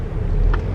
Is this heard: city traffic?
yes